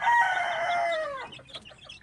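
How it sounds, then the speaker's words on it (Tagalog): Backyard chickens in a Filipino coop give a loud, drawn-out crow that falls away after about a second, followed by softer scattered clucks nearby. "Ito guys, yung mga manok."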